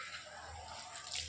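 Water pours steadily over a child's head during a bath, a continuous close splashing rush lasting about a second with a slight swell at the end.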